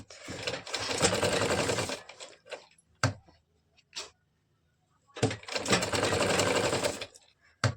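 A sewing machine stitches a katori blouse choli in two loud, steady bursts of close mechanical whirring, separated by a pause of a couple of seconds with faint clicks and handling noises.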